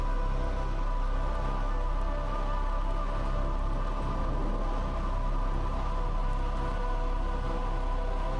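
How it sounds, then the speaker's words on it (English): Steady rain falling in the video game Mask of Dread, a dense continuous patter on surfaces over a low rumbling bed, even in level throughout with no speech. "okay, so it's raining."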